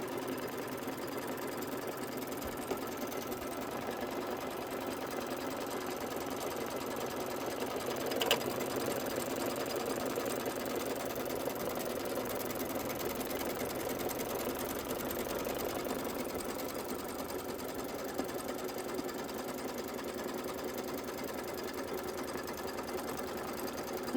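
An embroidery machine stitching a Kimberbell candy corn design runs with a steady, fast, continuous mechanical stitching rhythm that holds evenly throughout, close and moderately loud.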